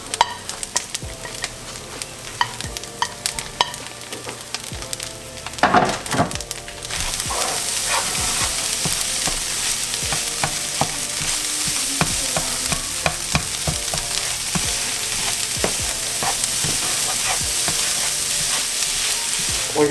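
Onion and garlic sizzle loudly in a hot pan for a vegan lasagna, a steady crackling hiss that swells after a few seconds, with occasional stirring scrapes and no talk.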